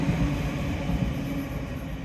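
A train passes along a beach-side line, a steady, loud rumble holding throughout with no breaks.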